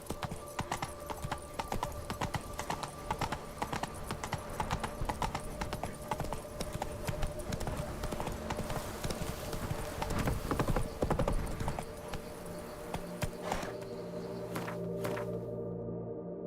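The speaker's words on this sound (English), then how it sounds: "Whoa there, Roach" A horse trots in The Witcher 3: Wild Hunt, its hooves clip-clopping in a steady, close rhythm under continuous game music, with a brief whinny-like note possible along the way.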